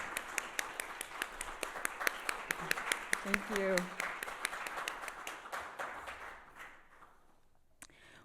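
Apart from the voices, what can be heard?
audience applause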